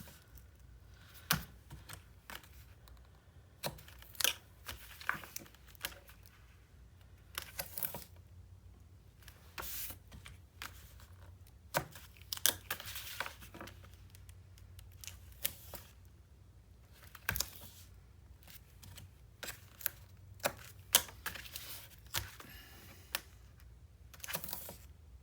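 Half-inch adhesive tape being applied to a panel of a 9 x 9 Nutcracker-themed paper mini album, with sharp irregular crackles, peels and taps scattered throughout at close range with no talking.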